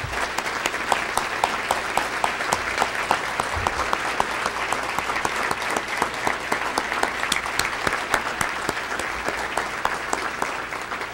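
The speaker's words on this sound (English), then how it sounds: "They deserve our applause." A large audience at a public education community breakfast claps for teachers, with dense, sustained applause filling the room evenly from start to finish without any break.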